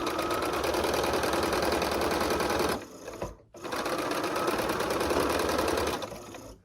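Sewing machine stitching quilt pieces for a Southwest Snowball quilt, running loud and steady in two long bursts separated by a brief pause.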